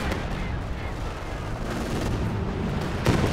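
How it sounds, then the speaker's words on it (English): A Katyusha rocket barrage in the Company of Heroes 2 video game, heard as a dense, continuous roar of rumbling launches and distant impacts with a sharper blast near the end. "Decent Katyusha barrage."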